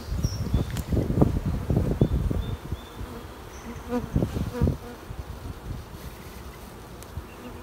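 Honeybees buzzing around an open hive during an inspection, a close, continuous hum with rustling and handling knocks in the first half, easing to a softer steady drone.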